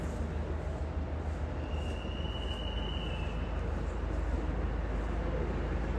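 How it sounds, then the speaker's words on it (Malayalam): A train bound for Baramulla pulls into a station on the Srinagar–Banihal line, a steady, loud rolling rumble with a thin wheel squeal rising briefly midway. No one speaks. "ഒരു ട്രെയിൻ വരുന്നുണ്ട്, ബാരാമുള്ള പോകുന്ന ട്രെയിനാണ്"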